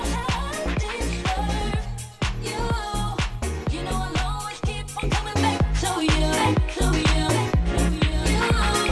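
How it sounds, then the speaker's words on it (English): Dense electronic dance track playing steadily through a Mixon 8 Pro DJ controller, with a Bit Crusher effect placed only on the vocals, so the beat stays clean and punchy while the voice layer sounds crunchy, loud and continuous throughout. "when I turn on this Bit Crusher effect, it will only affect the vocals instead of the whole track"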